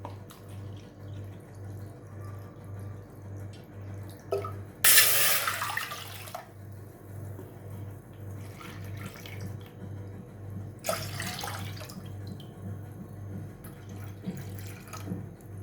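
Two bursts of water splash and pour into a metal cooking pot for rice flour modak dough, each lasting about a second, over a steady pulsing hum with faint clinks.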